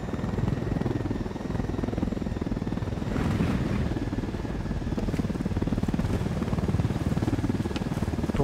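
Helicopter in the video game Ghost Recon: Wildlands, a continuous rapid rotor chop with a low engine drone, steady and fairly close throughout, with no talking.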